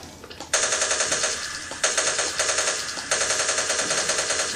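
MP5 submachine gun in a video game fires rapid automatic bursts, several sustained strings of shots broken by short pauses, loud and close with no talk over it.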